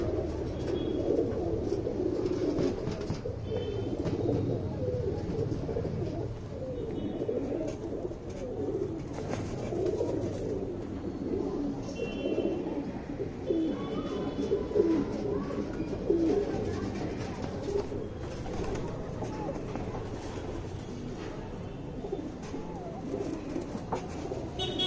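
Pigeons coo in soft, repeated low calls, layered and continuous near a loft, with a faint rumble of passing rail traffic in the background.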